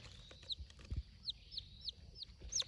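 Chickens cluck at a forest campsite, a series of short, faint, high calls scattered over quiet rustling and low background noise.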